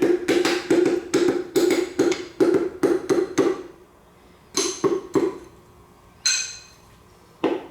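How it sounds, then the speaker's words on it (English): Series of sharp metallic taps as a piston is gently driven into the cylinder bore of a BMW M52 engine, in quick bursts of several hits with short pauses, close and fairly loud, with no talking. "Gently tap on the piston."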